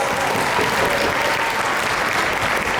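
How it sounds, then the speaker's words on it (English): Dense, steady applause from a large crowd of season pass holders at a season-opening welcome event, filling the whole stretch at an even, sustained loudness with no talk over it. "Clap, clap, clap, applause."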